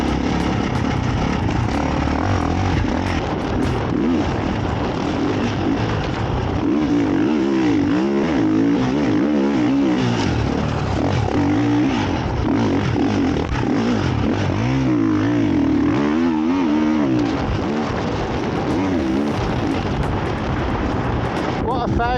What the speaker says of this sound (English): the bike's really good. It's cutting through the sand really well, almost like a 350 cutting through.